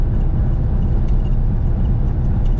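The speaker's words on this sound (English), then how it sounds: "This starts and runs great instantly." A 1970 Volkswagen Karmann Ghia with a four-speed floor shifter idles close by, giving a steady, loud low rumble with no break and no voices.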